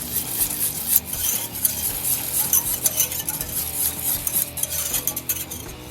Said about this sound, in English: take your whisk and give it a stir